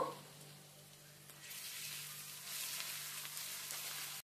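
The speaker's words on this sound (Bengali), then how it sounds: "এবার আমি দিয়ে দেব রসুন কুচি, দিয়ে দিচ্ছি আদা কুচি। এবার এগুলোকে একসাথে একটু ভেজে নেব।" Chopped garlic and ginger frying in a pan of hot oil, a soft steady sizzle that swells louder partway through and holds to the end, close by with no talking.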